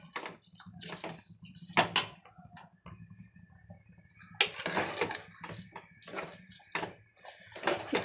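Soaked rice being mixed with water in a pot: wet sloshing and swirling splashes in uneven bursts, with occasional light clinks against the pot, close and moderately quiet.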